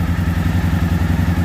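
A Suzuki V-Strom DL1 motorcycle, just restarted cold after a clutch basket change and valve adjustment, idles nearby with a loud, steady, low throbbing beat and light mechanical clatter.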